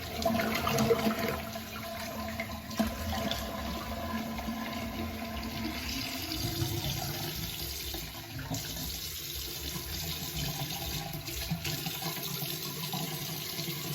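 Cold tap water runs steadily from a faucet while a shaving brush is rinsed at a sink, a continuous close rushing splash lasting throughout with no talk.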